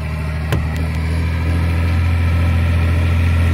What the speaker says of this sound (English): This is his pulling tractor, so it sounds pretty awesome.